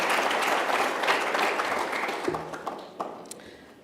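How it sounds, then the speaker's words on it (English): Audience applause at a CSIR launch event, full at first and then tapering off into a few scattered individual claps. "Can you please have another round of applause?"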